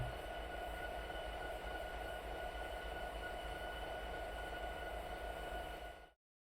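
A lone locomotive in Train Simulator Classic rumbles along with a steady engine drone and faint tonal hum, moderately quiet and even throughout before cutting off abruptly near the end.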